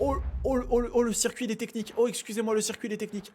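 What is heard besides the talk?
No distinct noise like a dog, phone or traffic.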